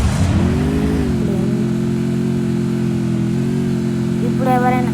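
A motorbike engine in the video game Free Fire MAX drones steadily at a loud, even pitch, rising briefly at the start and shifting slightly near the end.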